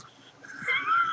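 A cat gives a short, drawn-out meow that rises and strengthens toward the end, heard up close with no talking.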